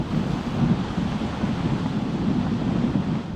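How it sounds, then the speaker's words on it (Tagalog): Strong, steady typhoon wind roars and buffets against the microphone in Tumauini, Isabela, Philippines, a continuous heavy rush with a deep rumbling low end. "Ang malakas na hangin dala ng bagyong Ophis sa Tumawini"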